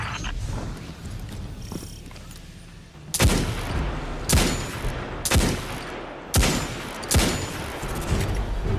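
Hand cannon gunfire in Destiny 2, with five loud, sharp shots spaced about a second apart ringing out over a low background rumble of game ambience, each blast decaying quickly.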